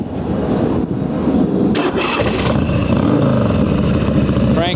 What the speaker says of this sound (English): I'll fire it off and let you give it a listen.